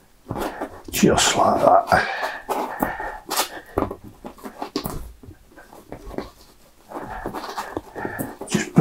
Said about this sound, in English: Oh, that bloody dogs again.